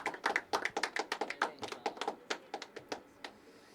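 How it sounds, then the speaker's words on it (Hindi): Audience at a poetry open mic clapping, a quick stream of crisp, close individual claps from a small group, steady for a few seconds then thinning out. "तालियां उठाइए"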